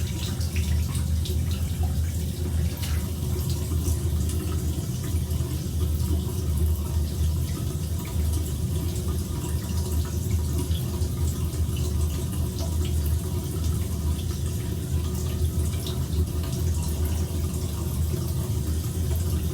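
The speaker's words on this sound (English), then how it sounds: "gonna run it under some cold water" Cold tap water runs steadily over an Osma alum block, a constant close splash and rush with no break from start to finish.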